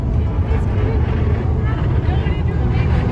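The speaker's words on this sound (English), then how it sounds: "It's getting windy out." Strong gusting wind outdoors as a storm builds buffets the microphone with a constant low rumble and roar, loud and close throughout.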